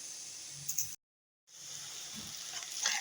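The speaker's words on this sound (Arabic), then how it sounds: "هيبدأ بقى إن احنا نقلبه كده لحد ما يتحمر معانا" Onions sizzle steadily in hot oil in a pan, a close continuous frying hiss with soft stirring scrapes, broken by a brief cut to silence before the sizzle resumes.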